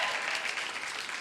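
Audience applause at a keto conference session in Salt Lake, a steady wash of many hands clapping at even loudness throughout, with no voices over it.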